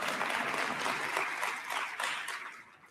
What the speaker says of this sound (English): it's fine, you can clap, I'll allow it